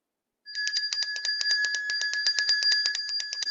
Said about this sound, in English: Give Mike Waterhouse Bonsai a ring of the bell.